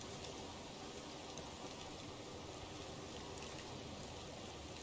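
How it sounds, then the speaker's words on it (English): Rain falling in the medieval survival game Medieval Dynasty on a foggy, rainy day, a constant faint hissing wash of rainfall with no distinct drops, steady throughout and with no voice. "It's a little foggy and rainy right now"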